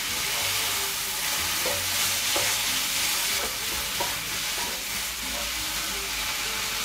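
Water-soaked vegetables sizzle steadily in a hot pan for vegetarian rissoles, a continuous broadband frying hiss with a few soft clicks and stirring taps, close and fairly loud throughout.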